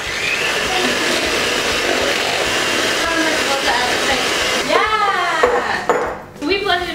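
An electric mixer whirs steadily through chai sugar cookie dough, a loud continuous motor drone that cuts off partway, followed by someone speaking and the clink of dishes.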